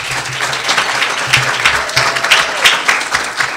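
Loud, continuous clapping from an audience at an annual essay contest awards event, individual hand claps audible within the dense wash, with a few low voice fragments underneath.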